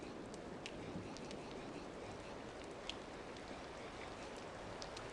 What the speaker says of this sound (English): It's raining, yay!